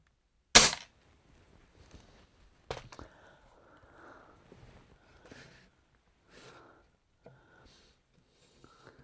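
Airgun shooting a jumbo pellet into a vintage 1950s-60s strawboard tester: one sharp, close crack at the start, then a fainter second pop and quiet handling noises.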